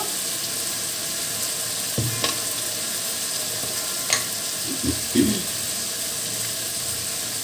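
Spices fry in a pan with salt, turmeric and chili powder under a steady close sizzle. A few soft scrapes and clinks come from stirring, with no talking.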